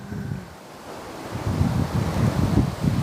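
Ocean waves rolling onto a beachfront shore in Mindoro, Philippines, a low rumbling surge that builds in the second half, mixed with gusty wind buffeting the microphone; no voices.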